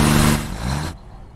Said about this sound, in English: pardon the noise while I go turn this truck off